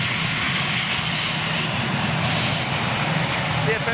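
An Austrian Airlines Airbus A318 or A319 with CFM56 engines makes a steady, loud, broadband jet roar that holds level throughout, with people talking over it.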